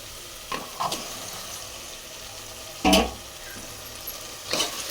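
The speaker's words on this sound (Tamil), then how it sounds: "காய் 2 கிண்ணி கிண்டிப்போம், வதக்கிடுவோம் காய் எண்ணெயில்." Vegetables are stirred into hot oil in a pan already holding sautéed onion and tomato, giving a soft continuous sizzle broken by a few scraping stirs, the loudest near the middle, with no voices.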